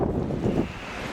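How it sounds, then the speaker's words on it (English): Wind blows outdoors at a greenhouse build site, a steady rough buffeting rumble hitting the microphone, loud and close with no talk. "Sorry about the wind."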